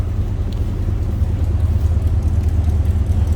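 A 1956 Cadillac Coupe DeVille idles from behind the car near the exhaust, which exits through the bumper, giving a steady, close, low rumble with no talking.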